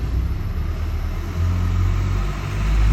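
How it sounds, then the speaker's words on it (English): An old, rusty dump truck lumbers past close by, its engine a heavy, steady low rumble that swells slightly as it goes, with no one talking. "Big old lumbering rusty dump truck"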